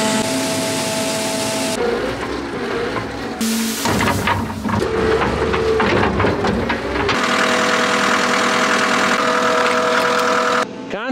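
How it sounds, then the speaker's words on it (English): A diesel farm machine idles at harvest time with a steady, close mechanical drone and a continuous low throb that shifts in tone partway through, with no one talking. "Constantly burning diesel, huh, Anna?"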